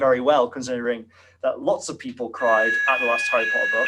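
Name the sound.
fire alarm going off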